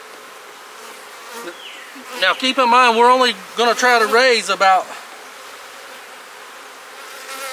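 Honeybees swarm and hum at an open hive while nurse bees are gathered, a steady buzzing bed running under a voice as he talks.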